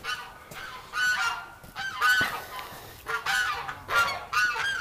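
Geese honk repeatedly near a group of ducks outdoors, loud overlapping calls in irregular bursts close by, with no talking.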